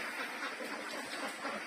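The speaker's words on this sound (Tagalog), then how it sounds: "Muscovy duck." Muscovy duck on a farm where duck eggs are being gathered, giving a steady run of raspy, breathy calls throughout, moderately close and fairly quiet, with no talking.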